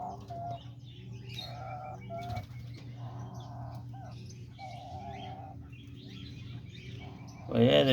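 Diamond doves coo softly and repeatedly in an aviary shared with parakeets, lovebirds and cockatiels, with low steady calls and light chirps throughout and a louder burst of bird noise at the very end.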